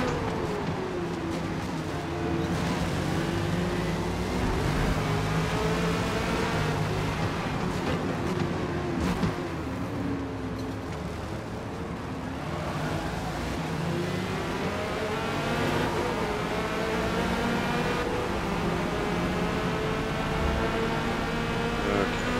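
Corvette C8.R race car engine howling on track at Laguna Seca in a racing video game, a loud continuous roar with rising and falling revs through gear changes and corners, alone without talk.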